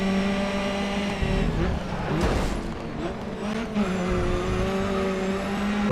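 Racing cars in the Grid Autosport video game roar continuously at close range, engines revving and shifting as they battle a Honda, with brief tire squeals through the corners and no talking.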